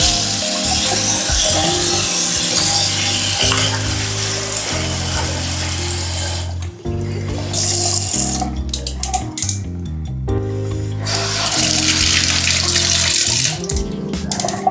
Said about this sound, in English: Oh, you gotta check out these faucets.